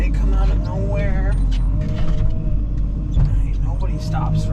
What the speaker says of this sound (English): Got a car coming up.